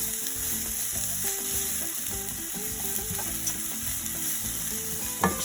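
Onions fry in a pan for a Spanish omelette, giving a steady close sizzle with a scraping, stirring sound running underneath. Nobody speaks.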